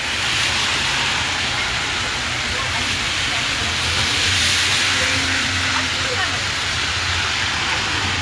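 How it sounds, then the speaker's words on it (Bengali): Heavy storm rain pours down steadily and loudly for the whole stretch, a dense, continuous hiss at night near the CN Tower area, with no break in the downpour. "এই যে বৃষ্টিটা একটু কম ছিল, এখন আবার বৃষ্টিটা বাড়ছে।"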